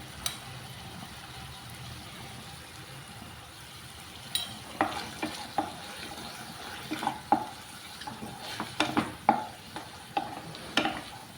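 Chicken liver fries in oil with mint and chili powder, a soft, low sizzle first, then a spoon stirring in a series of sharp scrapes and clinks from about halfway on, fairly close and quiet.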